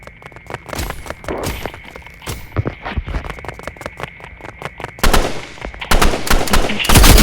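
Rapid bursts of video game gunfire in Rivals crackle throughout, with dense automatic fire growing louder and heavier toward the end, no talk over it.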